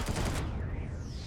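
Enemy weapon fire in the sci-fi game Empyrion Galactic Survival hits as a short, dense burst of rapid shots with a fading electronic sweep, all over in about a second.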